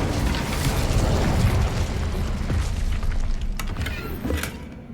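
Incendio fire spell in Hogwarts Legacy: a dense, loud, continuous roaring burst of flame with rumbling low end and crackling pops toward the end, heard alone.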